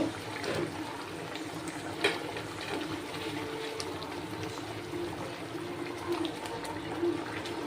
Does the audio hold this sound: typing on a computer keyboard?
no